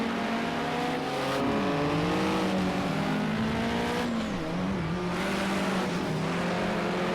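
Race cars roar through a Project Cars 2 sprint race at the Sakitto circuit, engines revving and shifting continuously with occasional tire squeal, loud and steady throughout.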